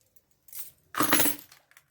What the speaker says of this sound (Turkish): Anahtarlarım.